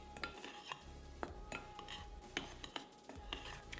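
Dry ingredients for pumpkin cornbread, including baking soda and kosher salt, stirred in a bowl, with a quick run of soft clinks and scrapes of a utensil against the bowl.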